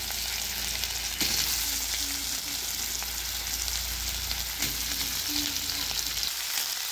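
Vegetables and potatoes fry in hot oil with a loud, continuous crackling sizzle, broken by a couple of brief stirring knocks.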